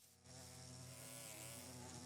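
Bees buzz steadily and loudly near a bee nest in the video game Minecraft, a continuous droning hum that swells in after a brief quiet start.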